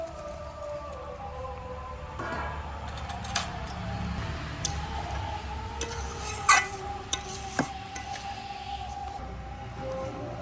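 Pre-fried cauliflower going into simmering gravy in a pan, with a few soft clunks and splashes of pieces dropping in and the quiet scrape of stirring over a faint background hum.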